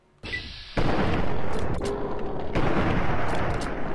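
A gunshot in Fallout 3 cracks out sharply with a booming report, followed by a rumbling tail and another loud blast a couple of seconds later.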